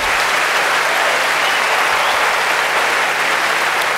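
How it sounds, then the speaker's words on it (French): A large audience applauds parents at a Senegalese ceremony, dense, loud, sustained clapping that fills the whole moment without pause. "Des applaudissements forts pour les parents."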